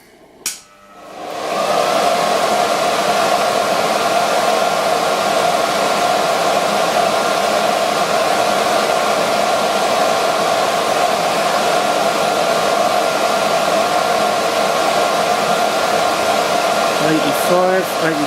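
A blower fan five feet from a horizontal axis wind turbine in a venturi test switches on with a click, then roars as a loud, steady broadband whoosh that holds constant, with faint clicks near the end.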